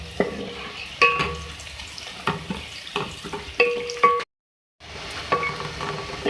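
Onion frying in a pan with bay leaf and whole garam masala added, a steady sizzle with repeated stirring scrapes and clinks of a utensil, broken by a brief silent gap.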